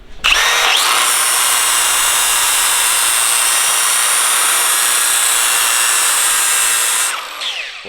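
Home garage lathe spinning up, running with a loud steady high-pitched whir for several seconds, then cutting off and spinning down near the end.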